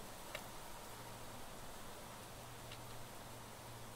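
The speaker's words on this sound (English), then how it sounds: "Oh, it's raining again." Rain falls in the Planet Crafter video game as a soft, steady hiss with a faint low hum beneath it and one or two tiny ticks, with no talking.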